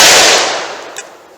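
A single loud shot from a .357 Magnum Sig Sauer full-size handgun, fired single action at 7 yards on an outdoor range, heard from its blast onward with a ringing tail that fades over about a second.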